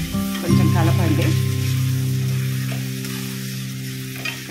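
Capsicum and soya chunks sizzle loudly as they are stirred in a hot oiled pan, a steady frying hiss broken by scraping stir strokes, close and with no talk.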